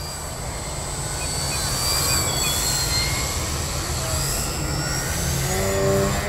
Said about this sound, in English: This plane climbing like this is pretty incredible.